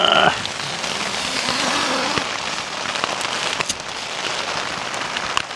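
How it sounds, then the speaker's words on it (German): Rain pattering steadily on a tent during a wet trek in the Swedish mountains, a dense, even hiss close overhead with scattered louder drops, heard from inside without talk. "Wir befinden uns hier im Zelt und wie man hört, unschwer wahrscheinlich, regnet es."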